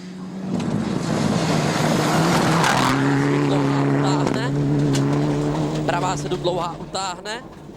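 Onboard a rally car on a gravel stage at Rally de Portugal 2009, the engine screaming loud and close through rising and falling revs, with tyre skids and gear changes, then easing off near the end while a commentator talks over it.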